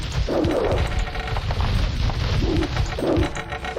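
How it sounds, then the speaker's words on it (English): Catapult triremes in Age of Empires launching ballista bombs, a steady run of dull booms and crashing impacts over continuous battle noise, with no talking. "they've got catapult triremes and triremes of their own. But you can see the new attacks. They fire ballista bombs."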